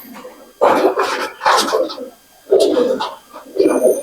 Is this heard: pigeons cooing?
yes